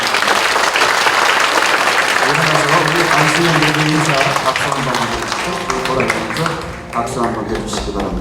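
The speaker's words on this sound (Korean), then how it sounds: "박수 한 번 하도록 하겠습니다" Congregation applause at a Korean Holiness church elder ordination service marking a 65th anniversary: dense, steady clapping from a large crowd fills the space, with music or singing tones rising underneath in the latter half.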